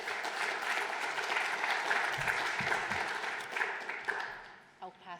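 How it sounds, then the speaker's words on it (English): Sustained audience applause at a COP26 Scotland net zero event, a dense steady wash of many hands that fades near the end as a voice begins speaking. "I'll pass on that round of applause to Peter since he's not here to hear it."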